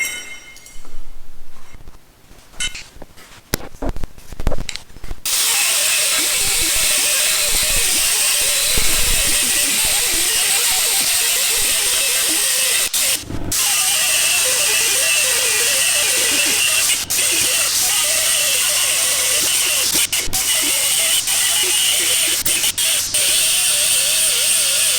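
A Milwaukee M12 Fuel cordless die grinder whines at high speed with a steady, bright, sustained tone after a few seconds of clattering handling, with brief dips as it runs.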